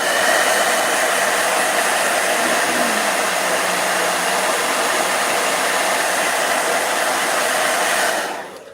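A blow dryer runs loud and close in one continuous, steady whoosh, then shuts off and winds down at the end.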